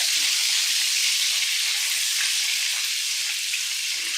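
Cherry wood smoked bacon frying in a pan for a weekend breakfast, a steady, close, bright sizzle with crackling that runs unbroken throughout, no voices.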